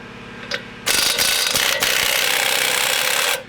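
An 18mm socket on a ratchet loosens a control arm nut during a lift kit install on a 2019+ Chevy or GMC 1500 truck, sounding as a loud, fast run of close clicks after a short first click.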